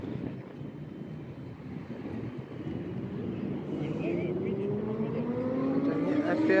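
Motorcycles ride past on a St. Petersburg street, their engine drone building steadily and rising in pitch as they approach, mixed with wind buffeting and city background; a voice is faintly present.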